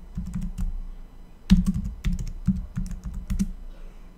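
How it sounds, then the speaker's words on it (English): Fingers tap a computer keyboard in quick bursts of close, crisp keystrokes, with short pauses between flurries and no one speaking. "Still typing."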